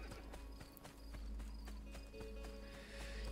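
Horse hooves clip-clopping in the game Assassin's Creed 2, a quiet, steady run of regular hoof clops with a low rumbling bed underneath throughout.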